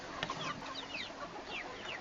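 Several caged chickens clucking softly with repeated short chirping calls, fairly close and steady over a low farm background, no talking.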